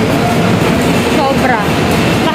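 Loud rumbling of a moving Manila MRT or LRT metro train, a steady rushing roar with faint squeals, as a voice is heard briefly underneath.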